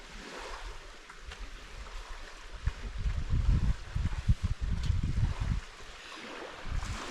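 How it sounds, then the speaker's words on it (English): Lake water laps gently at a lakefront campsite while leaves rustle in the breeze, forming a steady low wash that swells and fades, with no voices. "All I can hear is the leaves and the water."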